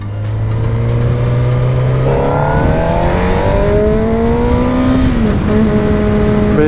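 A car engine pulls hard and rises steadily in pitch through the gears, loud and close from inside the vehicle, with no talking.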